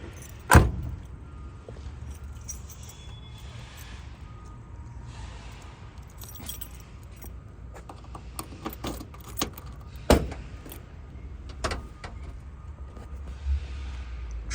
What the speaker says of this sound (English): Let's take the key and open up the trunk here.